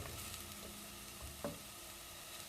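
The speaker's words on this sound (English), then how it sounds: "I'm going to wait for that to start to sound like it's sizzling real good" Curry noodle ingredients frying in a pan, a soft steady sizzle with faint stirring scrapes and one brief clatter, quiet and continuous throughout.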